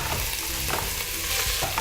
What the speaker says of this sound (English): And then if you want to put in the pepper, lots of sizzling.